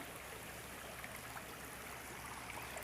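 A forest stream at Khao Kradong in Buriram flows steadily during the rainy season, a continuous broadband rush of water that stays even and close throughout, with no voices.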